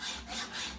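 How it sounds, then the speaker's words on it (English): Back-and-forth sawing strokes rasp close by during a BSA 441 Victor motorcycle restoration, three rhythmic pulls in under a second with a rough, scratchy texture. "He's sawing away."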